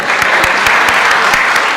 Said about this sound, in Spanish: Un aplauso para ella, muy bien.